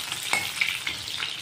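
Sliced onions hit hot oil in a pan for chicken curry, producing a loud, close, continuous sizzle with a few stirring scrapes.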